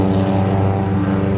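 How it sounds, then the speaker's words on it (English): A loud, close engine drone with a steady low rumble and strong harmonics, like a motorcycle roaring past at full volume. "Loud motorcycle."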